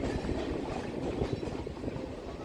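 A Sealdah-Canning local train runs on its rails with a steady, dense rumble and a rolling clatter of the carriages, loud and close and continuous throughout, with no talk heard.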